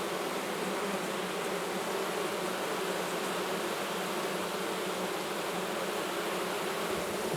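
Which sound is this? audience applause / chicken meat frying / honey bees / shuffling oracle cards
honey bees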